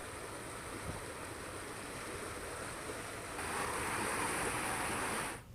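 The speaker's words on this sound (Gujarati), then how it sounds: "ધસમસતો પ્રવાહ જે છે ગામમાંથી પસાર થતો જોઈ શકાય છે" Steady rushing floodwater flows continuously through a village during heavy monsoon rain, a broad even roar that swells slightly louder toward the end, with no voices.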